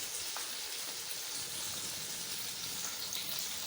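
Fish frying in a pan over a low flame, a steady soft sizzle like light rain that holds evenly throughout, fairly quiet and close, with no talking.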